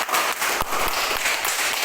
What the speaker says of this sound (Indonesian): mari kita berikan aplaus tepuk tangan sebagai tanda semangat